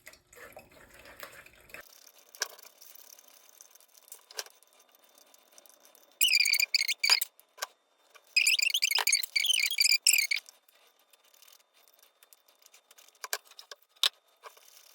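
Salsa liquid strained through a sieve into a cooking pot for albóndigas, with two bursts of close, patterning drips and trickles broken by scraping and a few sharp taps and knocks.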